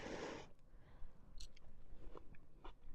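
Someone chewing crunchy apple crisp cooked on a Blackstone griddle, with close bites and crunches coming in a loose rhythm after a brief burst of noise at the start.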